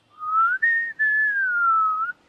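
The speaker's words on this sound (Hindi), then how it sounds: "बांसुरी नहीं है तो सीटी बजाओ।" A single person whistles a sustained, slightly wavering melodic line in place of a flute, clear and close, in two long unbroken phrases.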